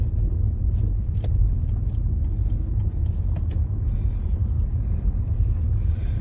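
A car driving off through the streets of an old Dutch town, a steady low engine and road rumble heard from inside, with faint ticks and rattles on top and no talking.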